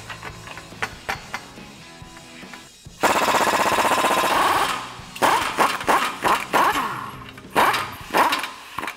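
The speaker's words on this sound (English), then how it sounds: "we got our 1 1/16 socket on our 1/2" impact. We're gonna remove the lower strut mount bolt next" A 1/2-inch impact wrench with a 1-1/16 socket hammers loose the lower strut mount bolt on a 2021-2022 Ford Bronco, a loud sustained rattling burst followed by several short repeated bursts, after some quieter clinks and handling noises.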